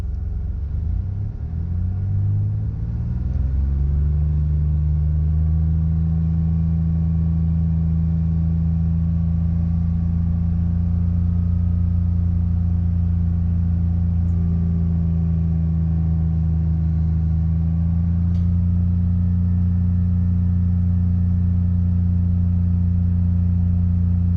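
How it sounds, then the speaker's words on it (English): A 2016 Ford F150 with a 3.5 V6 starting up and then holding a loud, steady engine drone up close, a constant low hum with only slight variation over about twenty seconds. "started my truck. We're gonna let it idle for a little bit, and then we're gonna rev it up to 3 to 3500 RPMs for 30 seconds."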